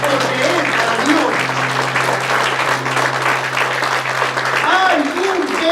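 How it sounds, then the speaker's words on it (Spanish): A church congregation applauds in a sustained, full burst of clapping, with a low hum underneath and faint voices rising through the applause. "Si va a aplaudir, aplauda con todas sus fuerzas, porque es para Dios."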